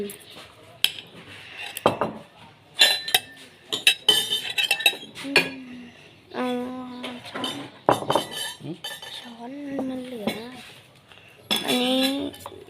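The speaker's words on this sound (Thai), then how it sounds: "เดี๋ยวผมสับกินไข่ต้มรอก่อนนะครับ" Boiled egg being chopped on a plate, a series of sharp clinks and taps of utensil on dish, with someone talking in between and around the strokes.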